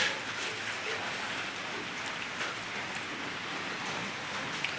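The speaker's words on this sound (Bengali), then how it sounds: "বাইরে বৃষ্টি হচ্ছে" Steady, soft hiss of rain falling outdoors, with a few faint drips standing out; no talking.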